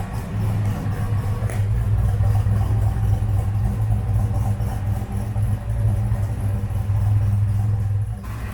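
A car engine idles steadily with a leaking exhaust H pipe, giving a constant low rumbling drone with a faint rhythmic puffing, close and continuous with no speech.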